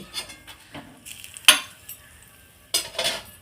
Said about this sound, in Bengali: এবারে আমি ইলিশ মাছটা ভেজে নেব এই কড়াইয়ের মধ্যে